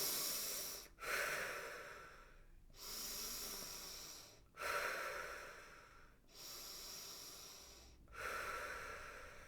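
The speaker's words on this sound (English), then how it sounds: "we can try a breathing exercise, whether it be taking 3 deep breaths" Slow deep breaths during a relaxation exercise, four long inhale-exhale cycles of close, airy breathing with brief pauses between them, no talking.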